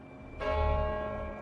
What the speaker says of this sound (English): In London, the bells of St. Paul's rang out